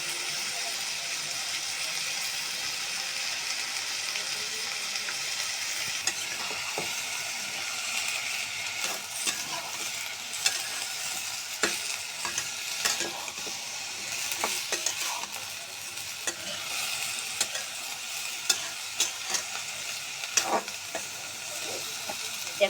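Potatoes and tomatoes frying in a pan for a mola fish curry, a constant hissing sizzle with occasional scrapes and knocks of stirring, close and even throughout.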